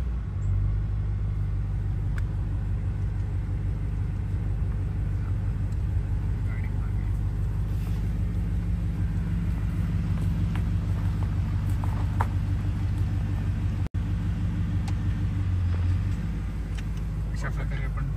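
A car reversing into a parking spot at a campsite, a continuous low engine rumble and tyre noise running steadily throughout, with people talking over it.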